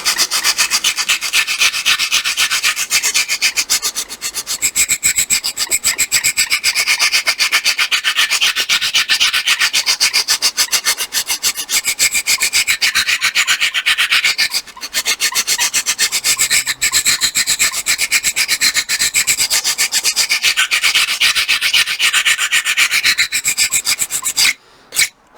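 Sandpaper rasps steadily along the bulkhead edges of a wooden model ship hull, a Vanguard Models brig kit, to shape a slight bevel. Long, close, continuous back-and-forth strokes run loud and alone, with a brief pause midway and near the end.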